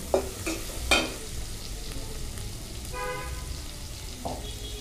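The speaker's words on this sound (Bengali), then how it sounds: "অল্প চিংড়ি মাছ আর হচ্ছে ছোট চিংড়ি মাছ আর পেঁয়াজ দিয়ে এটা জাস্ট ভেজে নেওয়া হবে।" Small shrimp and onion fry in a pan, giving a steady sizzle, with a few sharp clanks of stirring near the start and a faint tonal sound in the background, and no talk.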